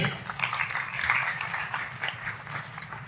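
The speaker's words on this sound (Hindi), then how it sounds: "सर के लिए ताली हो जाती है।" An audience at a live seminar gives a round of applause, dense steady clapping lasting about three seconds at moderate volume.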